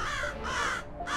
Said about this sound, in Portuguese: Centenas de corvos voavam no alto, ameaçadores.